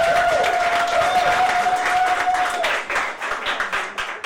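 A comedy club audience applauds for Patty at a stand-up show, steady dense clapping that swells then thins toward the end, with a faint held tone running under the first half.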